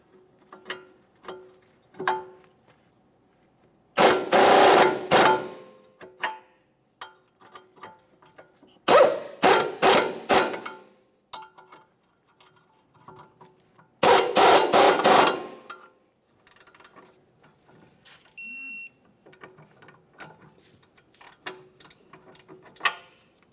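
Mounting hardware on a 2006-2011 Honda Civic knuckle assembly is run down with a power tool in three loud ratcheting bursts, separated by quieter ticking clicks of hand tightening and torquing.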